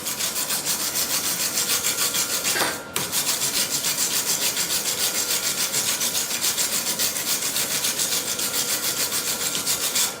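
A stainless steel wire brush, kept for aluminum only, scrubs an aluminum weld made with a spool gun, giving a steady, rapid, close scratching rasp that runs throughout with no talking.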